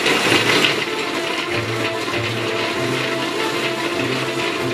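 A food processor whirs continuously as it purees sun-dried tomatoes, a dense grinding drone with a low pulsing hum, no voices.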